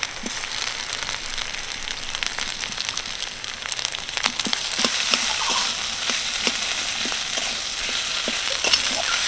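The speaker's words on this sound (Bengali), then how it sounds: "সেগুলোকে হাত দিয়ে এইভাবে ম্যাশ করে দেব" Boiled potatoes mashed by hand for a pumpkin-leaf roll filling, a steady close squelching and crushing with irregular soft wet clicks that grow a little louder partway through, with no talk.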